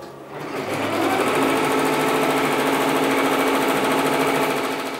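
An embroidery machine stitches a pattern onto fabric in a small sewing workshop, starting up and then running as a loud, steady, fast mechanical whir and rattle close by.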